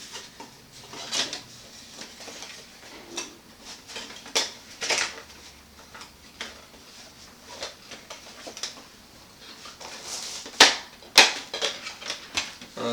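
A camping cook kit of pot, lid and butane canister gets packed into a stuff sack, giving a run of light metallic clinks, knocks and rustles at irregular intervals, close and moderately loud with no talking.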